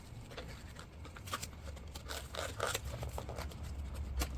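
Packaging of a Pokemon Klara Premium Tournament Collection box being opened close up: continuous tearing, snipping and scraping rustles, loudest in bursts, with no talking.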